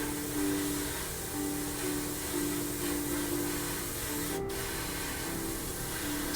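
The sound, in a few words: spraying paint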